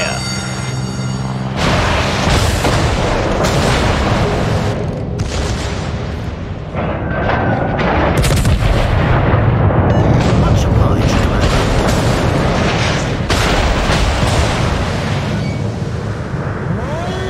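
Naval artillery in the Warships game, heavy booming salvos rolling into a sustained roar of blasts and ocean-like rumble that runs through the whole stretch, loud and dense with a radio-style voice at the start.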